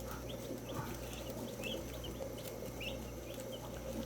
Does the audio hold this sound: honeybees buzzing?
no